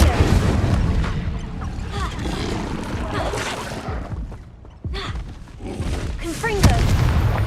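An Incendio fire spell cast in Hogwarts Legacy gives a loud, dense whooshing, booming burst with crackling bangs, set among battle noise, with a shouted voice over it.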